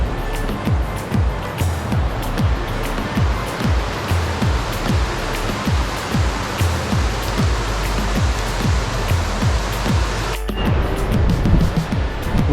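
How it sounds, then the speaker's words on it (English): Leather Waterfall (Rio dos Couros) in Chapada, Brazil, roars as a loud, continuous rush of falling water, a dense steady wash with no pauses. "the Leather Waterfall, as they call it in English, and it's absolutely amazing"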